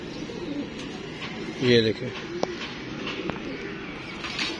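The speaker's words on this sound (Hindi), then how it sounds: "ये कबूतर पकड़ा हुआ कबूतर है ना" A captured female pigeon gives a short, throaty coo at close range, heard once amid steady outdoor background noise while someone speaks.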